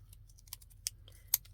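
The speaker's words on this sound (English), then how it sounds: "cut around this with this scissors that's from a hairdresser" Several sharp, close snips of hairdressing scissors through paper, spaced irregularly against a low background hum, one louder cut near the end.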